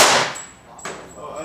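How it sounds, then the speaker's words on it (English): A Smith & Wesson 22A pistol fired at a target from 12 and a half yards: one sharp crack opens, then a second fainter report follows, with a high ringing tone lingering between them. "And Brady's going to hit, shooting that at 12 and a half yards."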